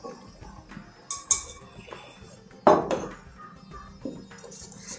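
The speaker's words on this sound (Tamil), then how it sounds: "இப்போ இந்த வறுத்த இந்த மாவையும் இதில் போட்டுடலாம்." Roasted flour tipped into a pot and worked in, with a few sharp metal clinks and scrapes of a utensil against cookware, close and otherwise quiet, while cooking kaaradayan nonbu adai.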